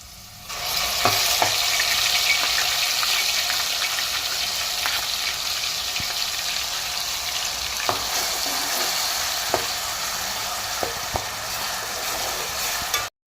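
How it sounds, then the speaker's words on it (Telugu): Red onion paste frying in a pan, a loud, steady sizzle that runs throughout with occasional clicks and taps of stirring, no voices. "ఎర్రుల్లిగడ్డ పేస్ట్ పచ్చివాసన పోయేంత వరకు వేయించుకోవాలి"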